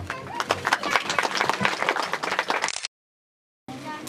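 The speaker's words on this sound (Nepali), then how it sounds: "ताली बजाओ।" Wedding audience clapping, a dense burst of scattered claps under crowd noise that cuts off abruptly, then resumes briefly.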